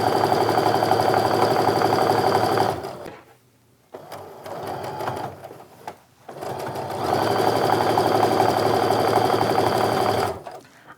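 A sewing machine chain-pieces quilt block pieces in two long, loud, close runs of rapid mechanical stitching, separated by a quieter pause with handling noise.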